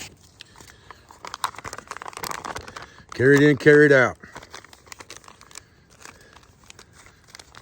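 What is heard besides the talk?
crinkling empty food bag being packed as trash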